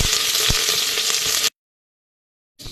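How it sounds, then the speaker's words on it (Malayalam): Mustard seeds, curry leaves and slit green chilies sizzling loudly in hot oil, a close, dense crackling hiss that cuts off abruptly midway, then resumes briefly after a silent gap. "കടുക് പൊട്ടിക്കഴിയുമ്പോൾ കുറച്ച് കറിവേപ്പില ഇട്ട് 2 പച്ചമുളക് നെടുകെ കീറിയത് അത് ഇട്ട് കൊടുക്കാം"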